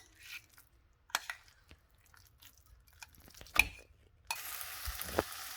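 Sweet potato paste dropped into hot ghee in a thick-bottomed pan for halwa, scattered soft scrapes and clunks of stirring followed by a sudden, steady sizzle as it fries, close and fairly quiet.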